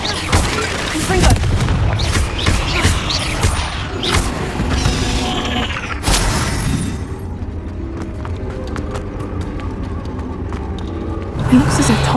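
Confringo blasting spells explode repeatedly in the Hogwarts Legacy video game, a dense run of loud booms and crashes in the first half, then a quieter stretch with game sounds and a final burst near the end.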